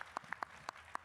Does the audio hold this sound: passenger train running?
no